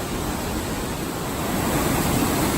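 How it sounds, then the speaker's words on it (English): At Crystal Cascades, a fast-flowing rainforest stream makes a loud, steady rushing roar that stays constant with no pauses or voices. "The water is flowing fast up here."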